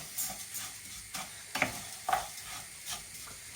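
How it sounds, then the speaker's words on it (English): Rice stirred in a little olive or sunflower oil in a pan for mushroom risotto, giving a soft, quiet sizzle with a few sharper scraping stir sounds, close and alone without talk. "we're just going to cook the rice with the oil, just to coat it"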